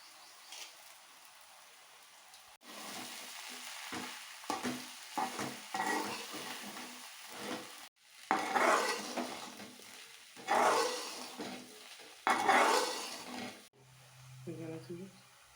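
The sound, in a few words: stirring puffed rice in a pan with turmeric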